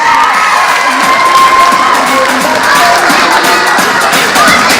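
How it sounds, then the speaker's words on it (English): A large crowd cheers and shouts loudly and continuously, with children's high voices whooping over steady applause. "give yourselves a round of applause"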